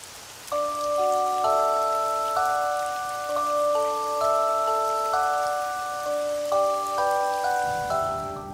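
Steady rain hiss runs beneath a gentle music-box melody of bright plucked notes, the rainfall soft and constant throughout.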